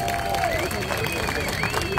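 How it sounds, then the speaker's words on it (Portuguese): Crowd applause for Isabela Nalu, South American Pro Junior surf champion of the 2023 season, at a surf festival awards ceremony in Saquarema, with cheering voices, chatter and whistle-like tones over steady clapping. "Uma salva de palmas para Isabela Nalu!"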